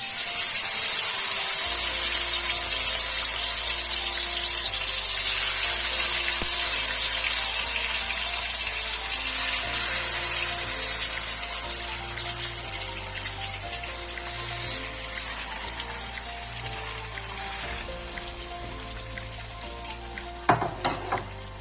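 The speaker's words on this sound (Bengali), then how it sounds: "গ্যাসের আঁচটা মিডিয়ামে রেখে এগুলো আমি ভেজে নেব।" Chicken pieces frying in hot oil and ghee over a medium flame for Kolkata-style chicken chaap, a loud, continuous close sizzle that slowly quietens, with a couple of brief utensil knocks near the end.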